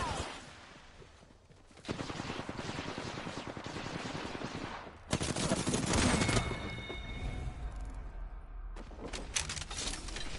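Rapid bursts of video game gunfire in a trios kill race match, dense automatic shots running for several seconds with a louder spell near the middle, no talk over it.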